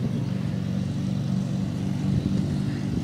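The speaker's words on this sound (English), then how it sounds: "Here's one of their mowers, the Toro Z Master Diesel Commercial." A Toro Z Master Diesel commercial mower engine idles steadily close by, a low, even, rumbling drone with no talk over it.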